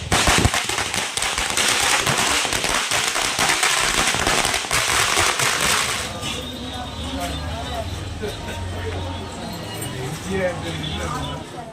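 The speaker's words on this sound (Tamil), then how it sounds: "பட்டாசு வெடித்து கொண்டாடிய கட்சியினர்" Firecrackers burst in dense, rapid crackling volleys at a political party's 100-day celebration in Thanjavur, loud and continuous for about six seconds, then fading into lower crowd noise and scattered pops.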